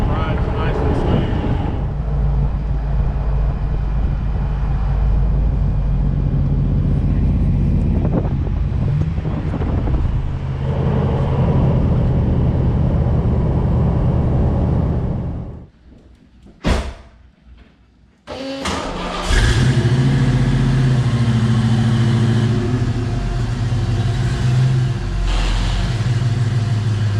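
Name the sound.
lifted classic vehicle driving on the road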